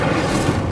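Incendio fire spell cast in Hogwarts Legacy during a boss fight, a loud dense whooshing roar of flame that fills the short moment without pause.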